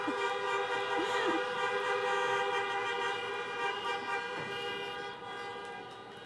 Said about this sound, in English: Honk some more, please.